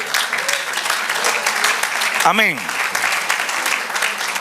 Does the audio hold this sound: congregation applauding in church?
yes